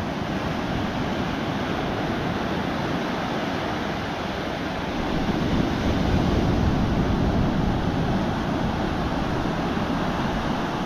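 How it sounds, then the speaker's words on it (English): Steady roar of ocean surf on the Sri Lankan coast, waves breaking continuously, swelling louder midway, mixed with some wind noise; no voices. "just listen to these waves crashing for a minute."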